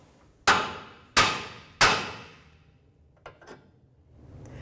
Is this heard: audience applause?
no